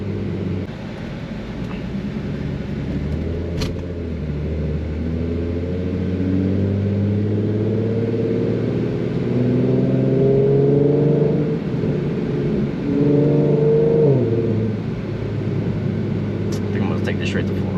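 A tuned Infiniti Q50 with the 3.7 V6, full bolt-ons and running E85, drones from inside the car while driving, its exhaust rising and falling through gear changes in a steady low rumble.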